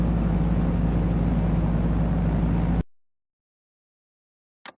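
Aircraft engines in a flight simulator game give a loud, steady droning hum that cuts off abruptly into silence, followed by a brief faint click.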